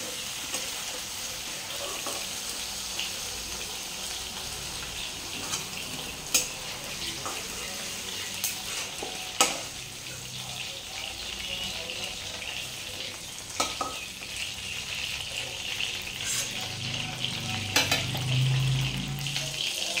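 Small fish sizzling steadily in hot oil for a curry with thankuni leaves, a continuous close frying crackle with occasional sharper spits and faint utensil taps, no voices.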